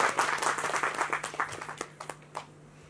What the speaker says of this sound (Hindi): एक बार जोरदार तालियां हम सबकी तरफ से उनको।